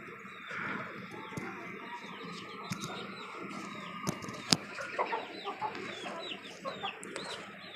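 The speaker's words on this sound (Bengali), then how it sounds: "এই হচ্ছে আমার সাদা মোরগটা" White rooster with chickens clucking on a desi poultry farm, steady close clucks and calls through a busy yard with a few sharp knocks and no talk.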